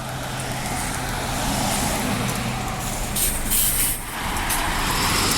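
A bus idles and slows amid steady roadway rumble, with a sharp hissing burst of air brakes released partway through, close and loud, with no talking.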